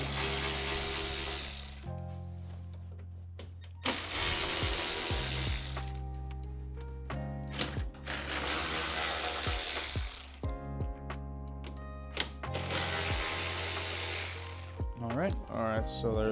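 A ratchet works bolts loose from the bumper of an Audi A4 B9 in repeated bursts of rapid clicking, close and loud, with pauses, metallic clinks and brief handling noises between runs.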